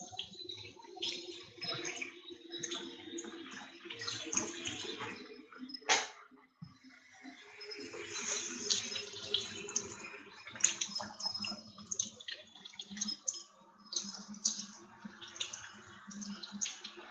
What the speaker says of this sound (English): We're going to wash up some potatoes here.